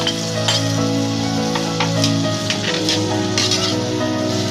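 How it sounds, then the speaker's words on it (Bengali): Bottle gourd and fried prawns are stirred in a frying pan, giving a steady close sizzle with scraping and clattering spatula strokes throughout, no voices. "ভালো করে লাউটা নাড়ানোর পর আমি ভাজা চিংড়ি মাছ রাখা ছিল, সেটা আমি দিয়ে দিলাম"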